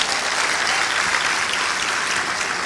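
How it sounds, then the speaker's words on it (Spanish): A church congregation breaks into steady, sustained applause, a dense wash of many hands clapping together without pause, filling the room at close range. "Un aplauso al Señor."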